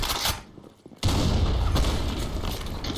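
Sniper rifle gunfire in a tactical online shooter game, a loud burst of shots followed by a brief lull, then sustained heavy firing and booming that carries on to the end.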